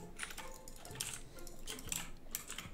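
Frantic, quiet clicking of a mouse and keyboard during a Roblox hide and seek game, a cluster of rapid clicks and taps in irregular bursts.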